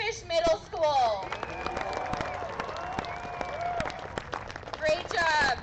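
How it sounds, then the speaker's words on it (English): An audience at a pumpkin-chunking catapult competition applauds the Spearfish Middle School team, steady moderate clapping mixed with cheering and crowd chatter throughout. "Give a round of applause to Spearfish Middle School."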